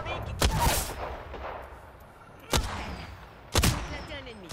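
Thermal grenade blasts in a video game: three sharp, loud bursts with rumbling tails, spaced about a second or more apart.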